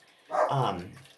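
A pet dog lets out a single drawn-out bark that slides into a low growl, close by and clear, with a faint voice nearby.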